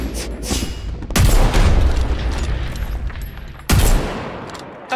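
Sniper rifle fire in the Omega Legends battle royale game, two loud, sharp cracks with booming tails spaced a couple of seconds apart, over a noisy backdrop of game ambience.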